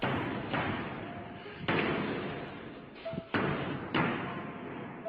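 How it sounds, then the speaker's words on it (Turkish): A door in a stadium locker room bangs shut on its own, giving a few sharp slams spaced over a few seconds above a rough, steady background rumble. "Görüntüde kapının kendi kendine çarptığını duyan görevli bunu kontrol etmek istiyor."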